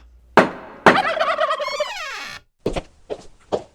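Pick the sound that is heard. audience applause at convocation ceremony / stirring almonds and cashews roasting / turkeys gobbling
turkeys gobbling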